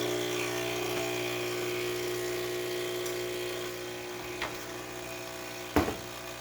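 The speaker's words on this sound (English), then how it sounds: "That's the boiler filling after running the hot water." A Pasquini Livia 90 espresso machine's boiler refills after running hot water: a steady mechanical hum and whir drone continuously, like a pump running as water fills, with a few faint clicks and one louder knock near the end.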